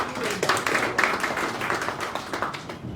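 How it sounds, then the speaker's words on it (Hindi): An audience claps at a train inauguration ceremony, a steady patter of many hands spread across the room, with some talk mixed in. "इसके लिए एक बार ताली हो सकती है"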